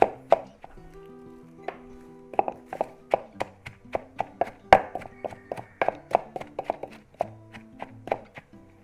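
Fresh herbs and spring onions are chopped with a knife on a board for a Thai herb dish, producing a close, brisk run of sharp taps and thunks in an uneven rhythm, with no talking.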